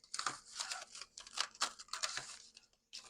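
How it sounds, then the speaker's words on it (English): Stickers shuffled by hand, a close, soft run of crinkly rustling and papery crackles in quick uneven bursts, ending in a brief pause before one last rustle. "I'm just gonna shuffle like some of the stickers and get some stickers for you"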